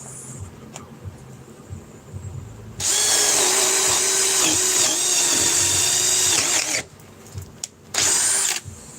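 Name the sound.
cordless battery drill running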